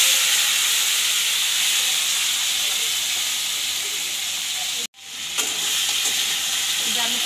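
Crab pieces frying in very hot mustard oil in a kadai give a loud, steady sizzle that cuts out sharply for a moment, then resumes with a few crackles.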